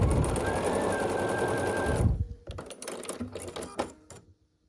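A sewing machine stitches quilt block pieces together in a loud, steady close-up whir for about two seconds, then stops, leaving scattered clicks and fabric handling noises.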